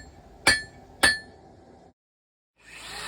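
Hot Damascus steel struck twice with a hammer during forging, two sharp ringing metallic clinks about half a second apart, followed by a brief silence and then a rising hiss of background noise.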